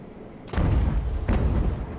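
Two heavy booms of sailing-ship cannon fire in Ultimate Admiral: Age of Sail, the first about half a second in and the second near the one-and-a-half-second mark, each with a long rumbling tail.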